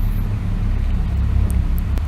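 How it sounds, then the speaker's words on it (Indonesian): A convoy of cars belonging to a Yakuza clan leader moves along a road, giving a steady low engine rumble and road noise with faint higher passing tones near the end. "Kemudian, di jalan terlihat iringan mobil dari ketua klan Yakuza tersebut."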